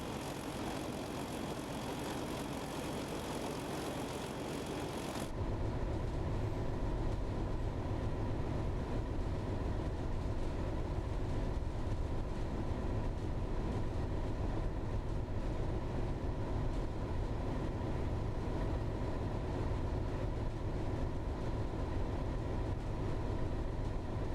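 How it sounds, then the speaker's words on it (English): The small train engine in Train Sim World on the East Coastway Brighton–Eastbourne line buzzes as a steady mechanical drone with a low hum and faint tonal whine, continuous and unchanging, with no one talking. "you can hear the little motor there, or this little engine just buzzing away, powering the train"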